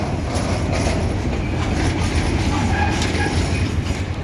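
A freight train of wagons loaded with sulfur rolls past close by, a loud continuous rumble with rhythmic clickety-clack of wheels on rail joints and faint wheel squeal, no voices.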